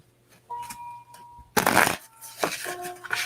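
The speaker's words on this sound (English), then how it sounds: "I used to be able to shuffle." A deck of playing cards is shuffled at a casual afternoon gathering, a brief riffling burst between softer handling clicks and taps, close and moderately loud, with a hum in the background.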